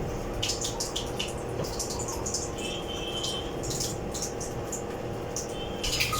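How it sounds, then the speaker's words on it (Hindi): Water pours steadily from a Kangen water ionizer machine, a continuous close splashing flow with brief brighter spurts and no talk over it. "जैसे हमने पावर ऑन किया तो हमें कैंगन वाटर मिल रहा है"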